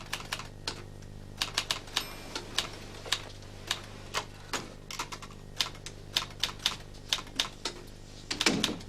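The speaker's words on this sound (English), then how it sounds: "Turn the typewriter off, would you, please?" A typewriter clacks away nearby, irregular keystrokes tapping in quick runs with a steady low hum beneath and a louder clatter near the end.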